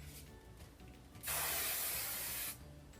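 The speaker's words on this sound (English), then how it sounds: "Again, lifting and spraying." One steady burst of hairspray, a close hissing spray lasting just over a second against quiet room tone.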